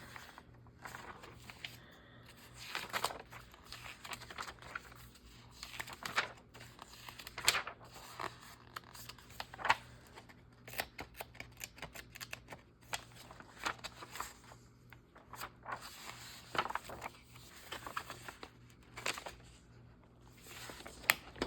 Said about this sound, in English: maybe I can cut that picture